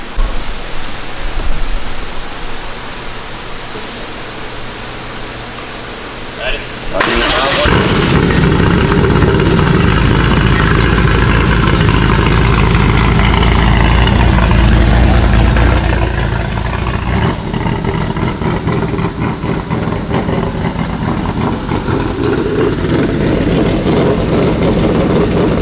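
Air-cooled flat-six of a Porsche 964 cranking and catching on its first start-up, then settling into a loud, steady idle through a very loud exhaust, close by with no talk.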